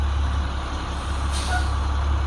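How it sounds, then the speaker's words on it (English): Bus air brakes hissing during a service brake test, a sharp burst of released air over a steady low engine idle, with a brief faint beep. "test my service brakes"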